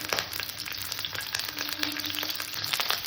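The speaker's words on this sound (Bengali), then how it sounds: "ফুলকপিটা একটু ভেজে নেব" Cauliflower pieces fry in hot oil with a constant, fairly quiet sizzle and dense popping crackle, steady throughout with no talking.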